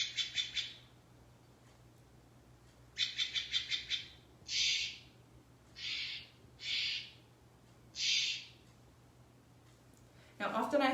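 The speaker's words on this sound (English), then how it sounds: "The last one I want to talk about here is our beautiful Stellar's jay, a beautiful, incredible bird" A Steller's jay on Vancouver Island gives a run of harsh, rasping calls in separate bursts, a rapid stuttering series followed by several single squawks spaced about a second apart, fairly close, with a faint steady hum underneath.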